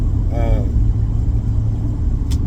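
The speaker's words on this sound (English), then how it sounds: "yes, I'm driving a truck" Steady low rumble from a truck's engine while driving, constant and close throughout, with a voice talking briefly over it.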